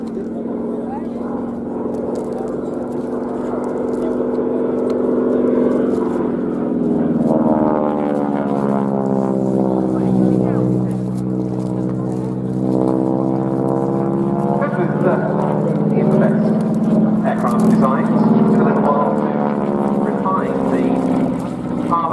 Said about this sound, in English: Peter Teichmann, with the Hangar 11 Collection's North American P-51D Mustang